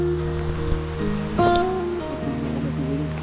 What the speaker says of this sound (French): la cascade d'Apcher murmure dans l'espace